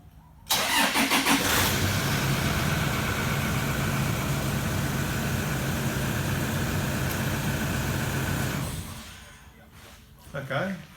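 A car engine powered by a red Optima battery, years old and starting to weaken, cranks briefly, catches and settles into a steady idle for several seconds, then shuts off, close and loud.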